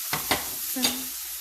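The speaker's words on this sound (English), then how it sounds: "We're gonna go ahead and stir this some more so the veggies can be cooked a little bit more." Vegetables are stirred in a hot pan, with two quick spatula scrapes and then a third over a steady low sizzle, close and fairly loud, with no voices.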